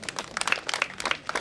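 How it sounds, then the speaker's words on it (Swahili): Mourners at a funeral service give brief, scattered applause: a sparse handful of claps in irregular bursts, moderately near and short-lived. "Hebu tupige makofi kidogo."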